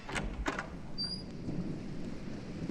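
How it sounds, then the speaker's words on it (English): A thunderstorm rumbles outside with a low, rolling, continuous roar, broken near the start by a couple of sharp knocks and a brief high whine, fairly loud, with no speech. "Oh, what a storm."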